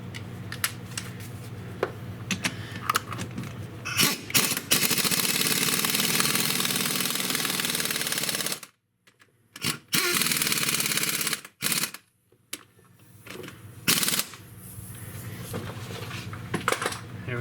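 Ratchet cranking down bolts during a first-generation Audi TT Quattro transmission swap, giving bursts of rapid metallic clicking with short pauses and sharp clanks, close and loud in a garage setting.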